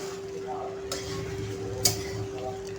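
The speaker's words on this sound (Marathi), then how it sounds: "आता आपण ही खिचडी मिक्स करून घ्यायची आहे." Sabudana khichdi being stirred in a pot, with soft scraping and occasional clinks of a spoon against the pan, under a steady background hum.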